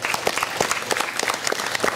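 Loud, dense applause from an audience at a mayor's student support award ceremony in Ayutla, steady rapid clapping filling the whole stretch without voices.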